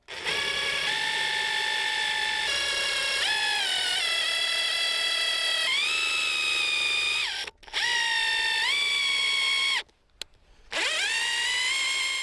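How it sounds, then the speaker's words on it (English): A JCB diamond-tipped hollow drill bit, made for masonry and metal, bores into an oak beam with a loud, sustained whining drone that shifts pitch as the load changes, broken by two brief stops. "a diamond-tipped, hollow drill bit made by JCB, not designed for wood, but masonry and metal"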